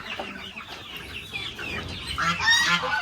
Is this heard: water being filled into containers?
no